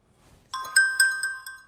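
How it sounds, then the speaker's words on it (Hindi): A phone rings while a call is being dialed: after a brief quiet start, a series of bright electronic tone pulses repeats at a quick, even rhythm, loud and close, with no one speaking. "तुम देख नहीं रहे मैं फोन मिला रहा हूं।"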